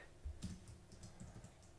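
Keyboard typing on a computer while entering an item name into QuickBooks Online, a short burst of soft, quick clicks heard close and alone with no talking.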